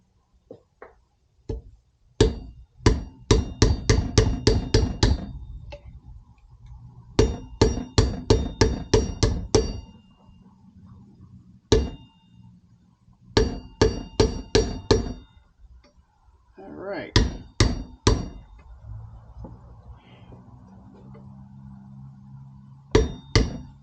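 A seal being hammered into a Suzuki SV650 wheel bearing, with bursts of rapid sharp metallic taps in quick runs, separated by short pauses and scattered single knocks, close and fairly loud.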